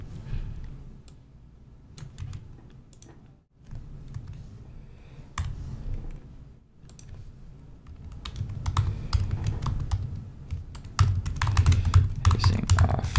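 Fingers type ad copy on a computer keyboard in steady bursts of quick, close key clicks, growing busier and louder toward the end, with no voice over them.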